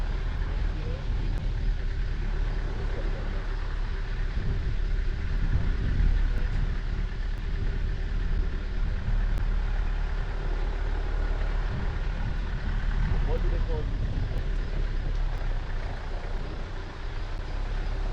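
A car drives along the coast at Batakunku beach in Gambia, its engine and road rumble a steady, close, continuous drone for the whole stretch, with a faint voice now and then beneath it.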